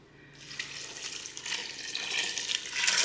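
Tap water runs steadily into a pot of lima beans with country ham, a broad rushing pour that grows louder and fuller over about three seconds, with no talking.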